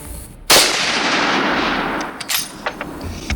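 A single sharp gunshot from a World War 1 Steyr M95 straight-pull bolt-action rifle cracks loudly outdoors, followed by a long fading echo and a few faint clicks.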